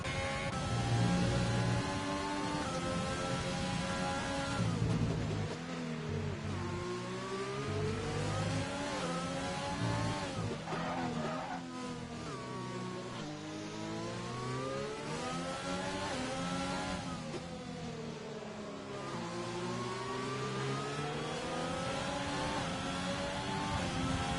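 Race car engines from a racing video game league at the Hungary Grand Prix, a continuous loud revving whine that rises and falls as the cars accelerate out of corners, with layered engine tones throughout.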